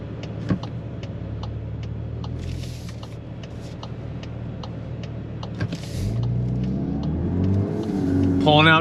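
A 2026 VW Golf R Mk 8.5 pulls out into traffic, its engine note climbing steadily under acceleration with a low rumble throughout and a rising whine near the end, heard from inside the cabin.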